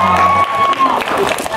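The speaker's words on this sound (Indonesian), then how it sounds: "Boleh tepuk tangan dulu." An audience of students claps in a classroom, a brief burst of applause that overlaps a faint voice and a sustained tone before it thins out near the end.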